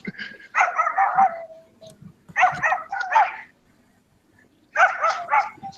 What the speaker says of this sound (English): I hear a bunch of dogs in the background